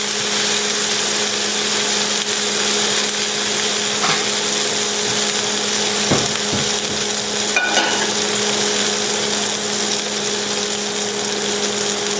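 A wagyu burger patty fries and caramelizes on a hot surface, giving a steady, close, even sizzle with a faint low hum under it and a few small clicks, no voices.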